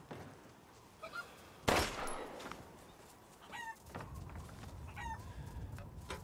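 Chickens in the video game Resident Evil Village cluck and squawk in short scattered bursts against a faint background, with one sharp loud burst near the start.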